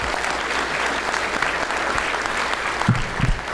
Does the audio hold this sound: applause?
yes